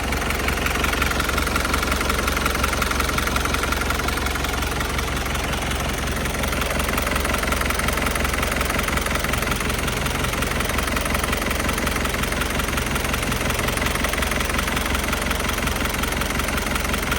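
A Hino FC diesel truck with a W04D engine idles steadily and loudly up close, a continuous low rumble with a faint knocking rhythm throughout, no voices.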